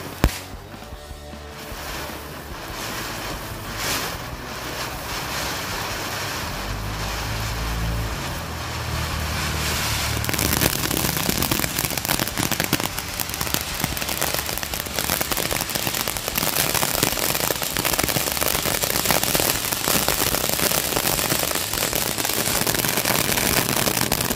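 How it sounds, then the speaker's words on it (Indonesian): A fountain firework (mercon air mancur) burning on New Year's Eve night, giving a long, continuous fizzing crackle like heavy rain that swells louder after the first ten seconds and keeps spraying steadily to the end. "Itu dia hasilnya dari mercon air mancurnya, sangat lama dan sangat keren sekali ya."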